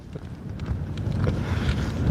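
Low, rumbling wind buffeting the microphone outdoors on a cold winter morning in Yorkshire, steady and gusty with no voices.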